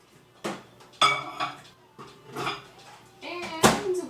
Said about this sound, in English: So we're going to put it here in the microwave.